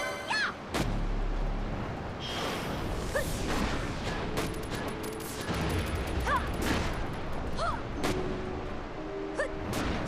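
Gunfire rings out in a Final Fantasy XII battle, rapid cracking shots and swooshing attack effects layered over game music, with chiming tones and a sharp impact near the start.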